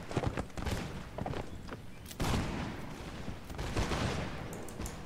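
Line infantry muskets fire in ragged volleys during a Napoleonic battle in a video game, a dense crackle of many shots with heavier bursts near the middle, loud and continuous, no voices.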